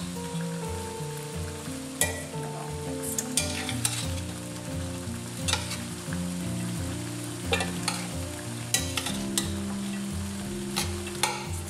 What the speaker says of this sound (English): And then I'm going to stir this up a little bit.